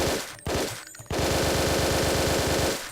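The Hatchet carbine in a video game fires on full automatic at about 13 rounds per second, a rapid, even stream of loud, close shots after two brief bursts.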